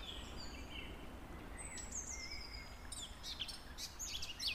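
Faint greenfinch chirps and twittering outdoors on a cold spring walk, a few short calls early and a brisker burst of chirps near the end over a soft background hum.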